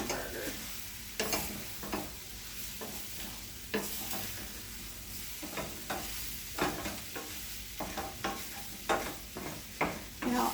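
Ground beef for taco salad stirred with seasoning and water in a pan, a steady sizzle broken by repeated scraping and stirring strokes, close and without talk.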